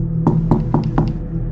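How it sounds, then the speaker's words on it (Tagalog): A knock on a motel room door at night, four or five raps in an even rhythm over a low steady hum, heard close and fairly clear. "may kumatok."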